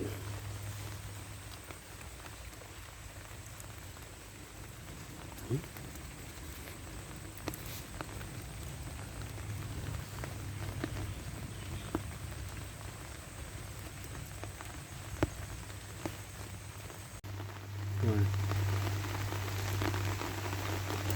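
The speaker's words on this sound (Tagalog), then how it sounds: "Walang katapusang ulan." Steady rain pattering on a surface, a constant hiss with occasional drips, swelling louder near the end.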